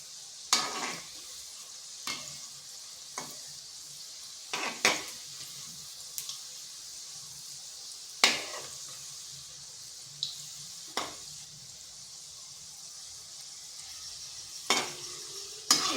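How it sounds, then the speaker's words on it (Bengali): Bhaja pitha frying in a pan on a medium flame, with a steady soft sizzle under repeated scrapes and knocks of a spatula as the pieces are stirred and turned. No one speaks. "এইভাবে নেড়ে চেড়ে লাল লাল করে ভেজে নিচ্ছি।"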